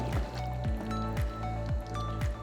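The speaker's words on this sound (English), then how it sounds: "After 5 minutes of simmering and stirring, we can add in the green onion and let it boil" Thick cashew cream sauce with green onion simmers in a pot while being stirred, making close, wet squelching sounds that repeat in a steady rhythm about twice a second.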